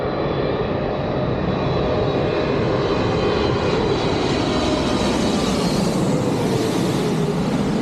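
Boeing 777 jet roaring steadily on approach to land at London Heathrow, a loud, continuous engine rumble with a whining tone that sweeps gradually across the whole stretch, no voices over it.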